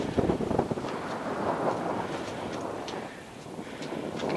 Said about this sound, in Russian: Ветер тут сильный дует.